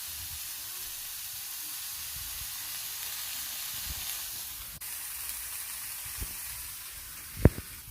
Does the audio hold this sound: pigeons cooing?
no